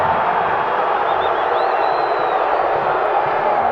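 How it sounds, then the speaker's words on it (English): A soccer stadium crowd at a New Mexico United versus OKC Energy FC match roars in a steady, close wash of voices that holds at the same level throughout, with a faint rise of whoops partway through. "the curmudgeonly crowd certainly still remembering the previous non-call"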